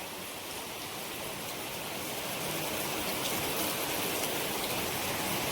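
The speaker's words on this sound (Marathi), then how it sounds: "पहिलं पाऊस पण खूप जोरदार" Heavy first monsoon rain pours down steadily, a dense continuous hiss of drops on surfaces that builds slightly louder over the span, with no voices.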